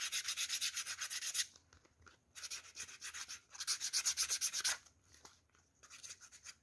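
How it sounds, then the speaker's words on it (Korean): Sandpaper rubs along the edge of a leather card wallet in quick, rhythmic strokes, two bursts of scratchy back-and-forth rasping separated by short pauses, close and fairly quiet. "그래서 사포질을 옆을 조금 하시고요."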